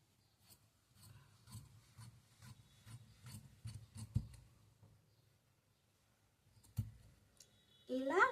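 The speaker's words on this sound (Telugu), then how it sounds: "ఇలా బ్యాక్ పార్ట్ను కటింగ్ చేసేసుకోవాలి." Scissors snip repeatedly through blouse fabric in a quick series of soft, close rasping cuts, pausing before a final clack and rustle, with no talk.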